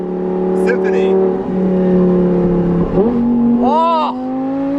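A sports car on its stock exhaust idles and revs with a steady, loud harmonic drone, pitch dipping and then sweeping upward in a quick rising rev near the end, close by and continuous.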